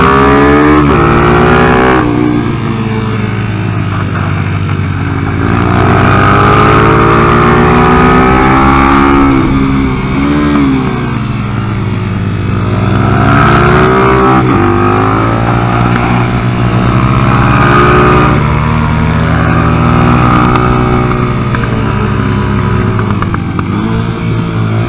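A Kayo MR125 pit bike fitted with a TTR125 engine is ridden close by, its small four-stroke engine droning and rising and falling in pitch as the throttle opens and eases, loud and continuous throughout.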